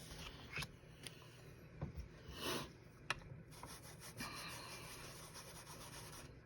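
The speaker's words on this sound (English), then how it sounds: "Just rub it around, get some ink on your blending tool" A blending tool rubbed around on an ink pad during cardmaking, producing soft scrubbing and dabbing sounds with a few sharper taps, close and quiet, with no talking.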